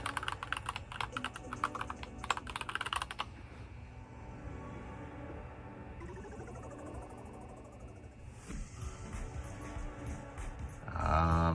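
Keys clatter rapidly on the small keyboard of a Fujitsu Lifebook U810 ultra mini PC, a burst of close, quiet typing that gives way to faint electronic hum and brief clicks.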